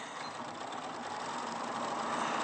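A sewing machine stitching a quarter-inch seam on quilting fabric, a steady fast whirring motor hum that keeps up without a break, moderately quiet with no talking.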